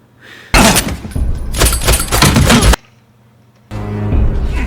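Gunfire in the film The Accountant, dense bursts of loud, sharp shots packed together, then a sudden gap of near silence before another heavy burst of impacts and noise.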